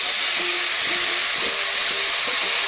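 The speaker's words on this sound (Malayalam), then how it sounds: "ഇത് കടു പൊട്ടിയേ." Mustard seeds splutter in hot oil in a pan for a soursop thoran, a loud, continuous close-up hiss flecked with faint, irregular pops, with no talking.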